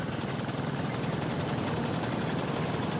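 A diesel Wheel Horse garden tractor engine runs continuously at close range at a show parade, a steady low rumbling drone with no pauses or voices.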